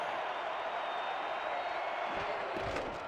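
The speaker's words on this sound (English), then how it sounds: "Crowd getting loud." A football stadium crowd keeps up a steady, broad roar at a distance, with a couple of sharp thuds near the end.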